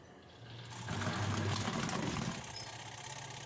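A washing machine spin dryer motor wired with a capacitor spinning up fast, a whirring motor hum that rises to a steady loud drone, then eases slightly, no talk.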